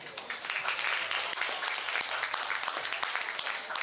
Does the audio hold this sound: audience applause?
yes